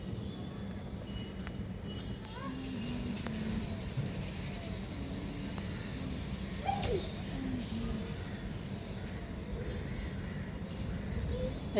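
Pigeons and other birds cooing in the afternoon outdoors, soft intermittent calls at a moderate distance over a steady low background hum, with a brief louder call midway.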